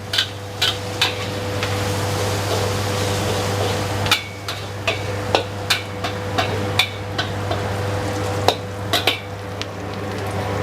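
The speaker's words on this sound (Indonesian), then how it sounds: "tumis dulu sampai wangi. Sampai si bawang putihnya sedikit kecoklatan." Garlic sautéing in a pan until lightly browned, a steady low sizzle under repeated sharp clinks and taps of a utensil against the pan, with a constant hum beneath.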